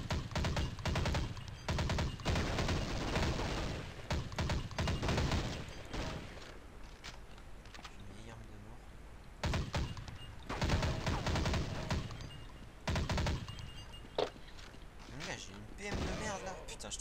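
Inaccurate small submachine gun firing in Counter-Strike Nexon: Zombies, loud rapid bursts in repeated volleys separated by quieter gaps, with players talking over the action.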